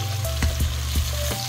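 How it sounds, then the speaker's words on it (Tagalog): Tomato, onion and garlic sauté until golden in a pan, the base for a pork sparerib sinigang. A close, steady sizzle runs throughout, broken by a few quick stirring scrapes. "ipa-golden brown ulit natin yan, yung ating kamatis, kasabay ng ating sibuyas at ang ating garlic"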